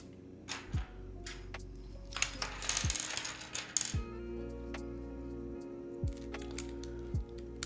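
SA profile keycaps clack and tick as they are handled and dropped onto a keyboard during a build, with sharp, scattered clicks over a steady low background hum.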